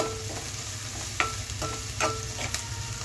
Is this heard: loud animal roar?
no